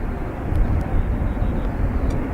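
A jet aircraft departing from a runway at Dublin Airport, heard as a steady, loud, broadband engine roar with deep rumble that holds throughout.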